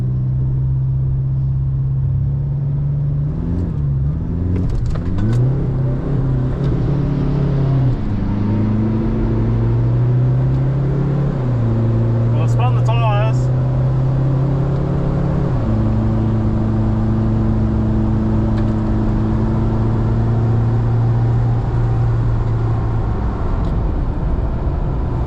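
A Toyota Hilux launches down a drag strip at Willowbank Raceway with traction control off, engine droning and shifting pitch as the tyres spin, a sustained loud motor roar throughout.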